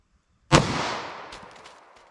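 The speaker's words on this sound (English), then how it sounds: "let's see what we get with our 5-inch pistol through our 4 layers of denim and to 3 inches of clear ballistics" A single sharp report from a 5-inch pistol fired into layers of denim and clear ballistic gel, abrupt and loud after silence, followed by a long decaying echo with faint clinks near the end.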